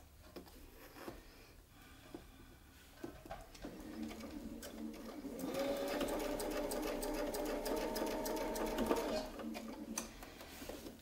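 A sewing machine stitches a Westalee Spinefex No 1 quilting design guided by a Westalee ruler. A faint hum rises to a steady, rapid whirring run for several seconds, then eases off, with light ticks and clicks around it.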